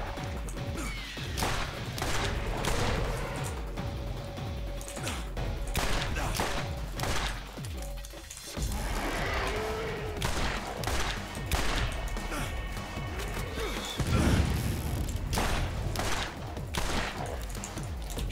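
Dense, continuous gunfire from the video game Borderlands, sustained bursts and impacts layered over a busy game soundtrack, loud and close with no pause throughout.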